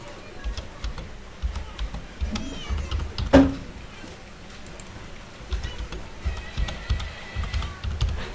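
Quick typing of a password on a keyboard, a run of light clicks with one louder key thump midway, pausing then resuming.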